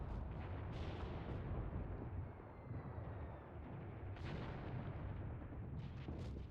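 Heavy gunfire from an anti-tank rifle and an armored car in the WW2 video game Mius Front, a dense rumbling barrage of booms and bursts with several sharper shots standing out.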